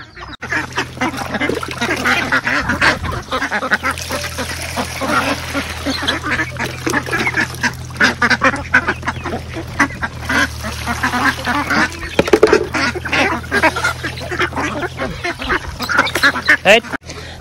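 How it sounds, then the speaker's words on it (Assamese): Ducks quack in a dense, continuous flock chorus on a farm before feeding, close and loud, with a low steady hum beneath and a person talking over them at times. "আৰু এইফালে চাওক এইখিনি হাঁহ আহি গ'ল"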